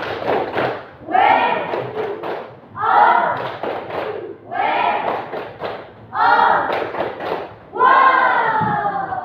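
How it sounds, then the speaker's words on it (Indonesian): A school class performs the rhythmic "tepuk wow" clapping chant in a coding lesson, with voices chanting together in short bursts between sharp claps, repeating several times. "Oke, tepuk wow."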